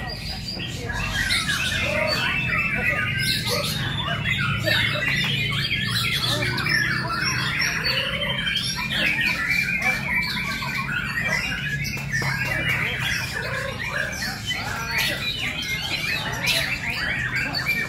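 Many canaries squawk and chirp densely and continuously at a canary community contest, loud and close, a busy overlapping chorus of bird calls with faint voices underneath.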